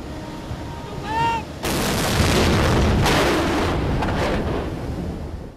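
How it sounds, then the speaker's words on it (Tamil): An artillery piece fires in a 21-gun salute for the President at Sri Lanka's 75th Independence Day ceremony at Galle Face, Colombo. A single loud boom is followed by a long, rolling rumble. "ஜனாதிபதிக்கு மரியாதை செலுத்தும் முகமாக 21 பீரங்கி வேட்டுகள் தீர்க்கப்பட்டன."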